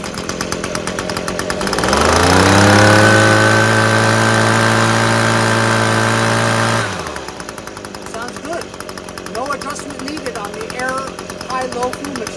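An Echo PB250LN two-stroke handheld gas leaf blower, its engine revving up loud, holding a steady high roar for several seconds, then dropping back to a rough rattling idle.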